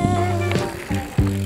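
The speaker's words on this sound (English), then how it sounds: "watch Matt here as he rolls by" A mountain bike rolls past on a trail through a jump lip, its freewheel buzzing close with a few sharp knocks of tires and suspension over the bump.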